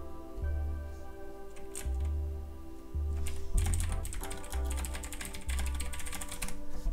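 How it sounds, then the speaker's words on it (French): Computer keyboard typing plays in steady bursts of quick clicks, close and clear, with a low background hum and no talking. "J'ai entendu un clavier"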